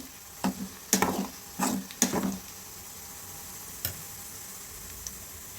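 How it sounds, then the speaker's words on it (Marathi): Garlic frying in oil for Maharashtrian bhadang, a crunchy puffed-rice tea-time snack: a faint steady sizzle broken by several brief stirring scrapes and clatters near the start, then one more stir later, with no talking. "लसूणला व्यवस्थित तेलामध्ये असं व्यवस्थित भाजून तळून घ्यायचं"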